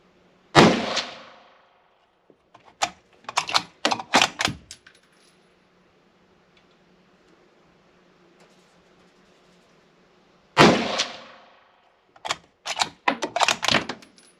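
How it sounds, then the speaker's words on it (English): Three-shot group from a Ruger American 6.5 Creedmoor rifle fired with Remington Core-Lokt ammunition, each sharp report followed by clattering rattles, with a long quiet gap between shots. "We're going to do a three-shot group now and see how this Remington core lock does just to verify our zero here."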